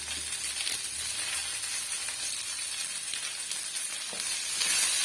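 Coriander leaves and a sprig of curry leaves fry in a pan for chutney, giving a steady close sizzle and hiss that swells slightly near the end, with no talking.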